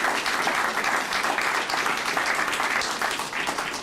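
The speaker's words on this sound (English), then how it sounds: "you can give her a round of applause" An audience at a fire department awards ceremony applauds for an absent fire motor operator, a dense, steady wash of many hands clapping from a crowd, sustained for several seconds without speech.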